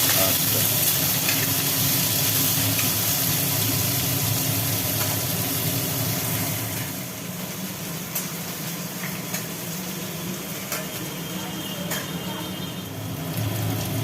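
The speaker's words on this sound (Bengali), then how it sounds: "জিরে বাটা আর লঙ্কা বাটা একসঙ্গে পড়ে গেল পাকা লঙ্কা বাটা আর আলু কুমড়োগুলো একটু ভাজি ভাজি হয়ে গেল" Potato and pumpkin fry with cumin and chili paste in a pan, a loud, dense sizzle that drops a little halfway through and settles into a quieter hiss with occasional clinks.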